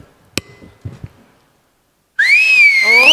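A person whistles loudly and up close in appreciation, a sliding, wavering whistle that starts after a few faint knocks and a pause.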